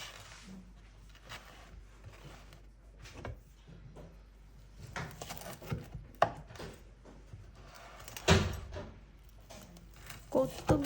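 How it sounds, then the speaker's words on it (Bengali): A knife cuts through homemade pizza, making a series of irregular thuds and scrapes against the board. A voice talks over the cutting throughout. "এই যে দুইটা বানাইছি, দুইটাই আমি কেটে নিই এমন করে।"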